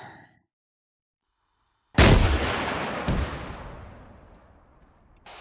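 An AT4 rocket launcher fires in the game ArmA 3 with a sharp, loud blast after near silence, followed about a second later by a second impact boom, both trailing off in a long echoing rumble.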